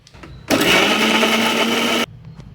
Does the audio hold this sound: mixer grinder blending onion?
yes